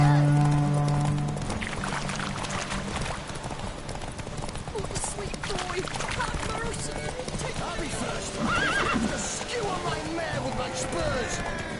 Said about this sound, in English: Mount up. Go! Run, Roach